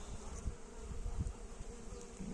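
Honey bees at a hive during colony reduction, a faint, continuous buzzing drone with occasional low thumps, heard alone.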